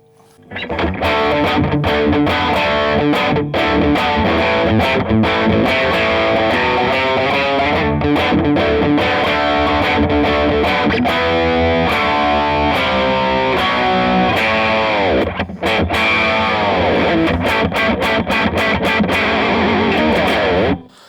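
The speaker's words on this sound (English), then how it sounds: "I think it's a really authentic, really, really good 70s distortion tone" An electric guitar with a 70s-style distortion pedal turned up to more gain plays a loud, sustained run of chords and riffs for about twenty seconds, with a brief break near the end and no speech.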